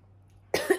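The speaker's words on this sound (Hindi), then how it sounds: "मैं जैसे ही बोलना स्टार्ट करती हूँ मुझे खांसी शुरू हो जाती है" A woman lets out a short, sharp cough after a moment of quiet, close to the microphone, with one or two harsh bursts at the end.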